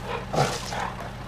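Dog barking and yipping at feeding time on a farm with other animals, a brief bark over steady loud background noise, close by, with no clear talking.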